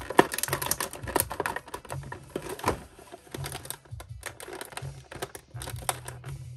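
A small cutter scraping and snapping through plastic and card toy packaging, with irregular clicky crackles and low thumps, close and moderately loud, no talking.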